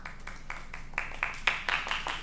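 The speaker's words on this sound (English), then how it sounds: "guys are going to be doing the clapping for you" Audience members at the Velvet Note jazz venue practice clapping, giving a handful of faint, loose, uneven group claps in quick succession at a distance.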